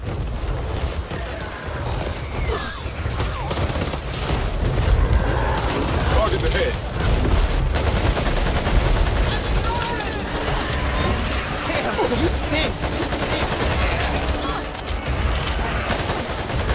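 Steady, dense automatic gunfire in the cooperative zombie shooter Back 4 Blood, loud and continuous throughout, with players' voices talking over it.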